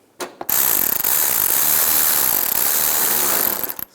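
A ratchet wrench cranks steadily, tightening a 7mm screw on the fog light cover of a 2010-2017 Chevrolet Equinox, giving a continuous close buzzing clicking for about three seconds after a brief initial click.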